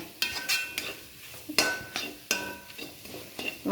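A spoon stirs a spiced masala curry in a pot, with repeated scraping and clinking strokes in an uneven rhythm and a soft sizzle underneath. The sound is close by and fairly quiet, and no one speaks.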